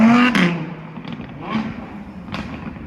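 An Audi R8 passes on a Paris street, its engine note rising briefly then receding into moderate traffic rumble, with a couple of soft thumps.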